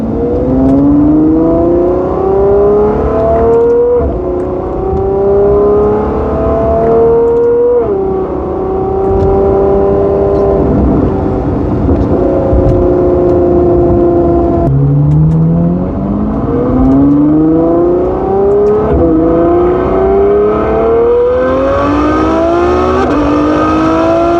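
A 2014 Ferrari F12 Berlinetta is driven hard, its engine revving loudly and climbing through repeated gear changes, each pull rising then dropping at the shift, close and continuous with no voices.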